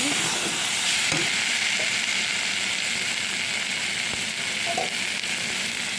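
Chili and turmeric powder fry in oil in a pan for doi begun, a steady bright sizzle with faint stirring clinks, unbroken and close throughout.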